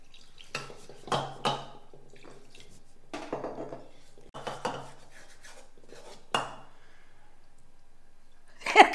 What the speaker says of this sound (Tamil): இதுலேயே கொஞ்சம் தண்ணி ஊற்றி அலசி ஊற்றிடலாம்